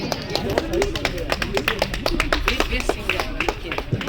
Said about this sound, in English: give them a big round of applause for the characters Bhaidon, Jigna, Chaman Lal and Magan Lal